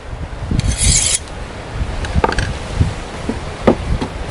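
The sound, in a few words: metal file rubbed along a knife edge to sharpen it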